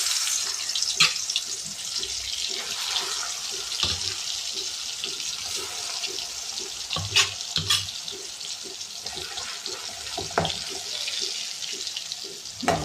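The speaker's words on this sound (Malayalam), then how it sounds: "അപ്പോൾ അതിലേക്ക് മസാല പുരട്ടി വെച്ചിരിക്കുന്ന സോയ ഇതിലോട്ട് ഇടാം." Masala-coated soya chunks fry in hot oil, a steady close hiss and sizzle with scattered crackles and pops throughout, no talk.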